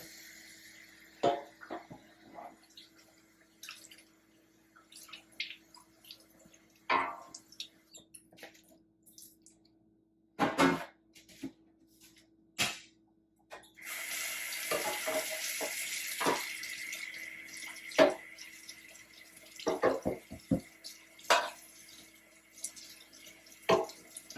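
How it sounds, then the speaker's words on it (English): Water drains and splashes from a fish being prepared for grilling over a sink, in intermittent faint trickles and drips, then a steadier run of water like a tap flowing. "You see the water that drain out of it"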